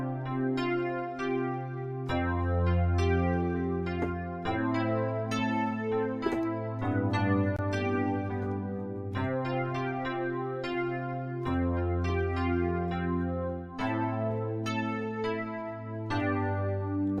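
Synthwave chord progression played on a synthesizer built around suspended sus4 and sus2 voicings, sustained pads with a deep bass line shifting chords every couple of seconds, steady and full throughout with no talking.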